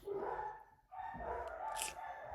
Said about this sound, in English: holy crap, what is wrong with my dogs?